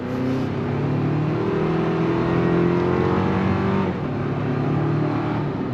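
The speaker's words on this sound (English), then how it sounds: "it's a 4-cylinder turbo, and it sounds like a 4-cylinder turbo" A 2025 Toyota 4Runner TRD Off-Road's 4-cylinder turbo engine pulls steadily under hard acceleration, a sustained mid-pitched drone that rises in tone before easing off near the end; no talking.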